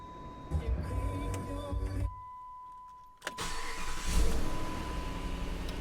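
A Hyundai Elantra on its third or fourth engine is started with the key: a short quiet pause, a quick crank, then the motor catches and settles into a steady close idle with a faint electrical whine.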